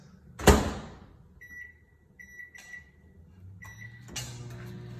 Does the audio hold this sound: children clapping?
no